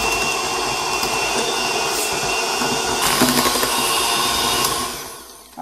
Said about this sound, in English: I finished beating the cream cheese